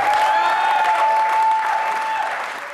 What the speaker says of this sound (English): Let's hear it up for Ben